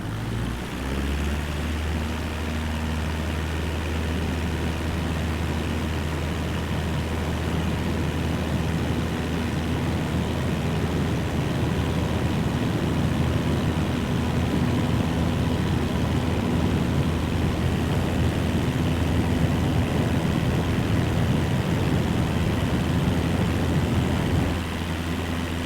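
A Cessna's piston engine and propeller drone steadily in Microsoft Flight Simulator 2024, a loud, constant hum with a faint shift near the end.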